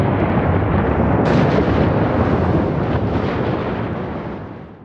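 A volcano erupting gives a loud, continuous roaring rumble that swells with a sharp burst early on, then slowly fades toward the end.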